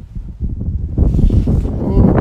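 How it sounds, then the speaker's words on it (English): Big gust of wind buffeting the microphone outdoors at night during stargazing with a telescope, a rough low-frequency roar that swells and keeps blustering throughout. "Oh, big gust of wind."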